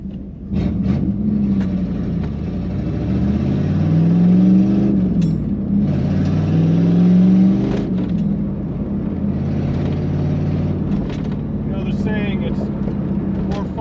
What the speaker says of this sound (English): Car's idling right now, everything's good.